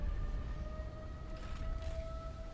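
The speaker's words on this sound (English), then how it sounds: "Oh, I never heard that siren before." A siren sounds at the space elevator in the video game Satisfactory: a steady, sustained electronic tone holding several pitches at once over a low rumble of background game ambience, with no talking.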